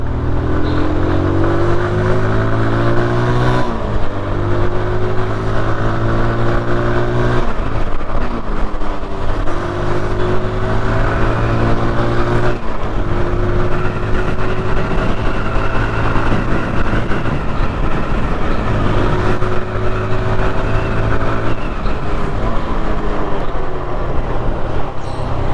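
A TVS Apache RTR 160 motorcycle engine runs loudly and close, its pitch rising and dropping through repeated revs over a steady mechanical drone.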